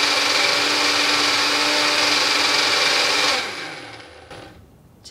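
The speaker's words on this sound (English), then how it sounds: "I have a very handy small blender. I'll just put the lid on and pop it in to blend it," A small blender whirs steadily and loudly while blending an avocado yogurt dressing, then the motor winds down and cuts off near the end, leaving quiet.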